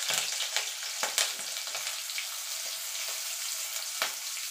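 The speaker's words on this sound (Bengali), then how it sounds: "ফোড়নটা একটুখানি ভাজা ভাজা করে নেব" Kalonji and slit green chillies frying in hot oil as a tempering for sarse ilish, a steady close sizzle with small crackling pops and a few sharper spits, no voices.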